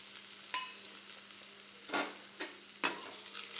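Coriander powder frying with onions in a pan for a Tamil fish kulambu gives a soft, steady sizzle, broken by a few brief scraping stirs, close and fairly quiet, with no talk.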